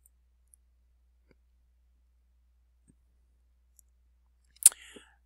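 A single sharp computer mouse click sounds near the end of an otherwise near-silent stretch during ebook cataloging software use, close and crisp with a brief tail after it, preceded by a few very faint ticks.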